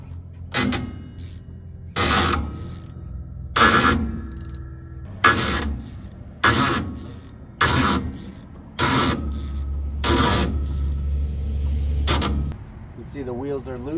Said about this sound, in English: What we're going to do is we're going to put that 7/16 right on here and back that off counterclockwise.